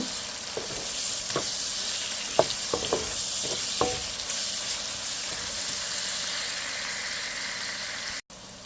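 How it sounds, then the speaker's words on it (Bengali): Onions fry in oil in a cooking pot with a steady sizzle, broken by several sharp scrapes and clinks of a stirring spoon, before the sound cuts off abruptly near the end. "পাতিলের তেল দিয়ে পেঁয়াজ দিয়ে দিয়েছি পেঁয়াজটা ব্রাউন কালার করে নেব"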